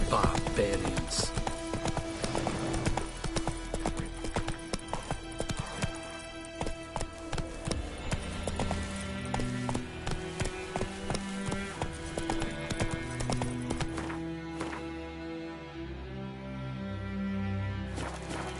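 A horse gallops steadily in The Witcher 3, a continuous drumming of hoofbeats over a busy game soundscape, with a brief spoken command from the rider.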